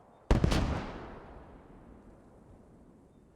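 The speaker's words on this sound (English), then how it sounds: "Still a couple of mortar rounds coming in." An incoming mortar round lands in the World War II video game Post Scriptum, giving one sharp, loud impact followed by a long rumbling decay that fades into a low background hum.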